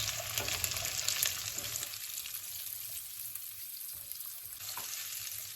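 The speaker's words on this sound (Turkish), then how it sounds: "Şimdi biberlerini ilave ediyoruz. Biraz da biberlerle kavrulsunlar." Onions and peppers sauté in oil in a pan, a steady crackling sizzle with occasional stirring scrapes and clinks, close and moderately loud, no talk.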